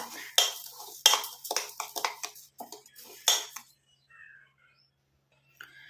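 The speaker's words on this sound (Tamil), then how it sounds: "இந்த மாதிரி ஒரு இரும்பு கடாய் ஒன்று எடுத்துக்கலாம்" Iron kadai being handled in a kitchen, a quick run of close metallic clanks and scrapes that stops abruptly, followed by near silence with a faint click.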